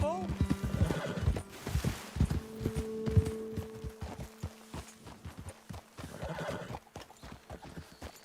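Horses in the Red Dead Redemption 2 video game whinny several times while their hooves clop in uneven walking beats nearby, with a voice speaking in between.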